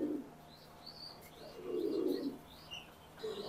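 Racing pigeons coo softly in a quiet space, giving low, throaty coos in three separate bursts with a few thin chirps in between.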